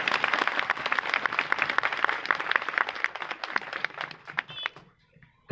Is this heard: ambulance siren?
no